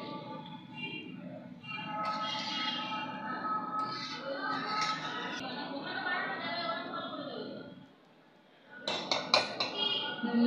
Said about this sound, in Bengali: জল দেওয়ার পরে ভালো করে সব কিছু ভালো করে নাড়িয়ে দিচ্ছি